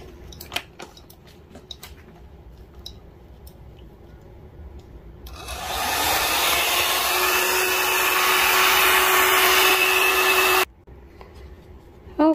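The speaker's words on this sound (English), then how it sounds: "Can actually just blow dry it and dry it nice." A hair dryer blows on acrylic paint on a collage. A loud, steady whoosh starts a few seconds in, holds with a faint whine for about five seconds, then cuts off abruptly, with small rustles before and after.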